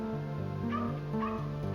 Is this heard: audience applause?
no